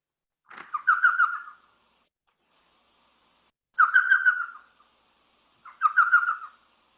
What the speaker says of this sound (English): We could play the call of this common owl